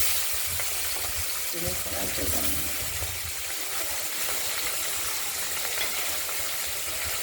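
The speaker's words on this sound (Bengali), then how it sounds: "এইগুলোকে আমরা এবার কড়াইতে ভেজে নেব তেল আগেই গরম হয়ে গেছিল" Pieces of bata fish fry in hot oil in a kadai. A steady, dense sizzle and crackle runs throughout, close and loud, with a few soft shifting sounds partway through.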